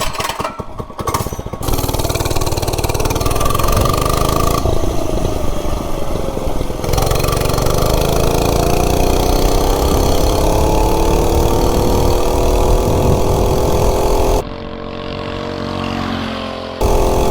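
An Oryxearth 105cc minibike engine, with the governor arm moved over to the throttle, pulls hard at speed near 30 mph. It is a loud, steady buzzing drone that climbs in pitch as it accelerates, close by and with no talk.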